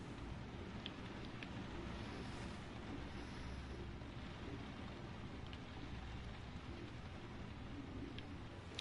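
Steady heavy rain hisses evenly in a video game, a faint continuous wash with a few soft drop ticks and no voices over it.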